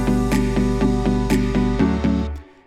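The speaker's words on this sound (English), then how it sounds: "if I only want to hear the verse, it sounds like this" Verse section of an electronic song playing back in FL Studio, with a sustained bass under steady rhythmic chord hits and synth tones, loud and clean, before it cuts off and fades near the end.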